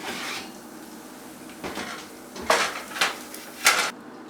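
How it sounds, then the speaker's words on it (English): A baked homemade pizza on a metal pan comes out of the oven with a few sharp metallic clanks and scrapes, the loudest three spaced about a second apart over quiet kitchen background; no one speaks. "I'll take out the pizza."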